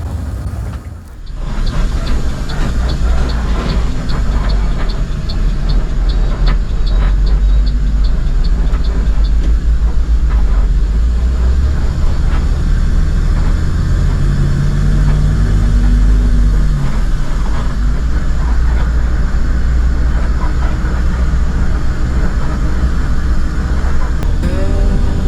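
A Lorena intercity bus runs along a winding Sumatran road from Tanjung Enim to Cikarang, its low engine rumble and road noise constant and loud from inside the cabin, with faint rattles and a brief tonal shift midway.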